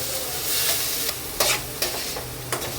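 Grated carrot frying in ghee for a sweet, a steady close sizzle broken by several sharp stirring scrapes of a spoon against the pan at uneven intervals, with no voices.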